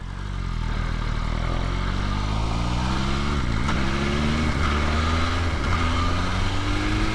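A BMW M5 CS accelerating hard in sixth gear, its engine drone rising slowly and steadily in pitch with a couple of brief dips, loud and close throughout with no talking.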